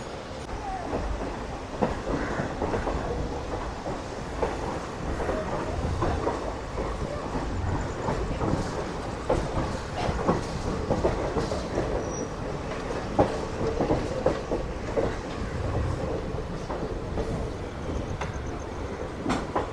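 A train leaving Palakkad Junction for Nilambur Road runs steadily along the rails, its low rumble broken by a continuous rhythmic clatter of wheels, with no talking.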